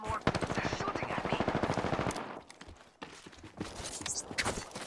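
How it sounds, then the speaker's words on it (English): Rapid automatic gunfire from a shooting video game rattles in dense bursts, loud and close, with a brief lull before the shots pick up again. "They're shooting at me."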